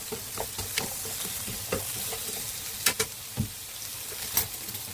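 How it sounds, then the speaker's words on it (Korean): Zucchini sizzles in a hot pan while a utensil stirs and scrapes it, a steady close crackle broken by occasional louder taps and scrapes, with no voices. "조금 볶다가 너무 많이 볶으면 흐물흐물해져서 맛이 없어요. 살짝만 볶을 거예요."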